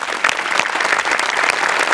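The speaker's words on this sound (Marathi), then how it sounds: "गेस्ट आपले जे आज आले आहेत त्यांच्यासाठी एकदा जोरदार टाळ्या वाजवूया" Audience applause for guests at a Marathi comedy show, a dense, steady burst of many hands clapping that fills the whole moment, with no voices over it.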